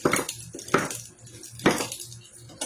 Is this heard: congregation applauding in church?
no